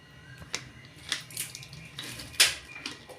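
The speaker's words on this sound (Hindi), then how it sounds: "1 किलो चिकन के लिए सिर्फ 1 गिलास इसके अंदर पानी डाल देंगे हम।" A glass of water is poured into a pot of chicken karahi, giving soft splashing and trickling with a few sharper splashes, fairly quiet and close.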